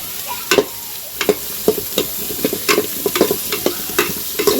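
Capsicum and carrot sizzle and fry in a pan while being stirred, with repeated sharp scraping strokes at an irregular rhythm over a steady hiss, close and fairly loud, with no talking.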